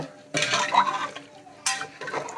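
Metal utensil scraping and clattering in a pan of chicken gravy in two bursts, close and fairly loud, with a faint sizzle between strokes.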